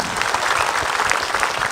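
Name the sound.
audience applause for Ustaz Syam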